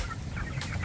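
Chickens cluck close by in a coop cooled by an electric fan, giving a brief burst of overlapping clucks over a steady low hum.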